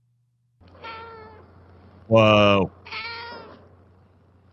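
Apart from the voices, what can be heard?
cat meowing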